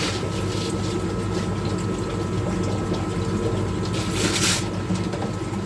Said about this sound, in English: Air pump on.